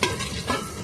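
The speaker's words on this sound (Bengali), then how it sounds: "এখানে হচ্ছে মাছের মাথার ভাজা" Fish heads fry in a hot pan, giving a steady crackling sizzle with a brief swell about halfway through, the pan close by and no voices.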